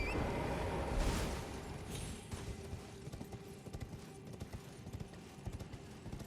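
Horse hooves galloping across terrain in Elden Ring, a dense, continuous rhythmic pounding of low thuds, fairly close and steady throughout with no talking.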